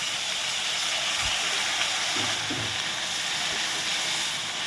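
Tomatoes dropped into hot oil in a pan, a loud, constant hissing sizzle that holds steady, with a few low thumps from the pan and no voices.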